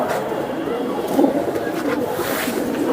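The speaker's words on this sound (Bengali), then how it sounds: "এটা পাঙ্খি সিলভার পাঙ্খি কবুতর" A silver Pankhi pigeon coos in low, rolling bursts close by amid steady background murmur and faint voices.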